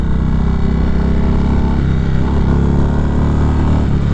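A 2019 Indian Springfield Dark Horse motorcycle rides in Sport mode, its engine a loud, continuous low rumble with steady throttle and wind noise, heard up close throughout.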